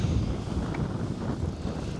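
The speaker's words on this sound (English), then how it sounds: "Who knew it was windy up here?" Continuous wind rushes and buffets against the microphone while riding a Fiido C-21 electric gravel bike uphill, a dense low roar with no voices.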